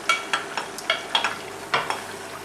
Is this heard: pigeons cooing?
no